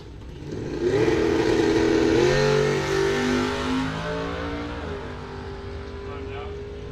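Drag race cars staged side by side at Coles County Dragway during index racing, one being a Mopar, engines revving loud and steady with rising and falling pitch, while an announcer talks over the noise.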